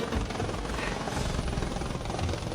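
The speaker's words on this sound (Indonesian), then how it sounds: "Naik helikopter ke sekolah." A helicopter flying overhead gives a steady, loud rotor and engine roar with broadband rumble that holds level throughout, with no talk.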